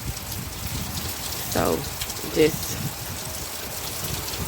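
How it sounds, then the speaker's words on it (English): Steady rain hisses and patters outdoors in Alabama during Hurricane Sally flooding, a soft, even wash with a couple of brief louder splashes and a voice speaking briefly. "we'll count the raindrops, I guess"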